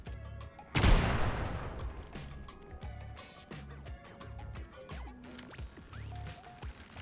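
A burst of gunfire in the shooter game Sulfur, one loud sharp blast with a decaying crash, followed by quieter scattered impacts and clicks amid a layered in-game music bed.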